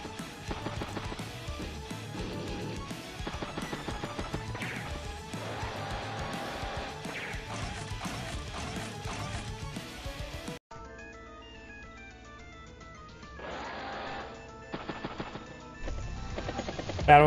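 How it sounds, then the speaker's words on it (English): Advance Wars battle copter firing on an infantry unit: a steady barrage of chiptune-style game effects with repeated crashing hits over music for about ten seconds, then a sparser melodic stretch ending in a louder burst. "Battlecopter gets a good shot there on the infantry unit"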